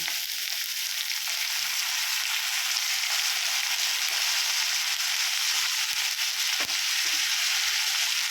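Cabbage and other vegetables sizzle and crackle steadily in a hot pan for fried rice, a constant frying hiss with an occasional stir or scrape, no talking.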